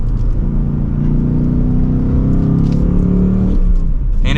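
A 2023 Ford Mustang GT with a manual gearbox blips its V8 for a rev-matched downshift, a steady interior engine drone that rises in pitch over a low rumble, with no talking.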